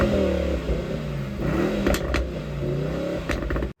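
A Mercedes-AMG E63 wagon's V8 revs loudly and close by, its engine note rising and falling in sustained sweeps with a burbling rumble beneath.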